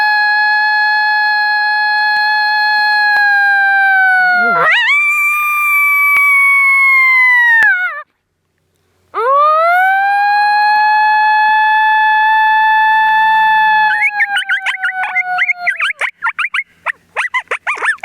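Coyotes in the Texas hill country give long, loud, close howls with rising and falling glides, a brief gap midway, then broken yipping toward the end.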